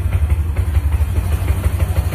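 A Bajaj Platina motorcycle idles steadily up close, its low single-cylinder thrum pulsing in an even rhythm throughout with no voices.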